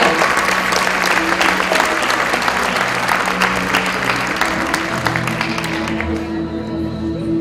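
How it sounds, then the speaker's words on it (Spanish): A school graduation ceremony audience gives loud, sustained applause, a thick wash of close hand claps that runs steadily for several seconds before tapering off while a tone or hum lingers underneath. "Le brindamos un fuerte aplauso"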